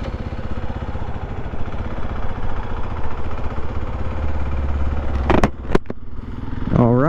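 A 2023 Kawasaki KLX300SM motorcycle engine idles with a steady low rumble, then gives a few sharp revs that rise and fall near the end.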